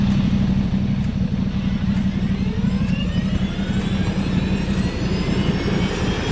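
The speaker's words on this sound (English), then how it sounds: "I'm going to keep well away from the helicopter as she takes off" A loud, steady engine roar with whining rotor tones rising in pitch as a helicopter powers up for takeoff close by, in a forest in Värmland, Sweden, no voices over it.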